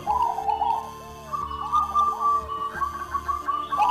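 Soft, repeated zebra dove coos with a melodic trilling quality, steady and fairly close, with faint hum and background noise throughout.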